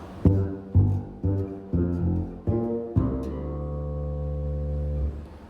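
Bass guitar plucks a short riff of five deep notes, then lets a final low note ring out and fade.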